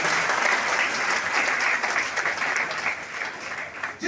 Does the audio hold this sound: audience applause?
yes